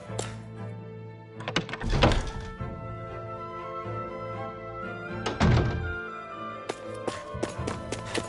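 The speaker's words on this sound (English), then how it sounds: "I always love the sound of hammers banging away." Hammers banging in the video game Tales of Arise, scattered metallic clanks and thuds at irregular intervals over a low ambient background drone, with no talking.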